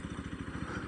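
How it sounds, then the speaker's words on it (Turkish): A motorcycle engine putters with a steady low pulsing rhythm, moderately loud and alone for about a second on a street where children are playing. "Bir motorcu daha geliyor."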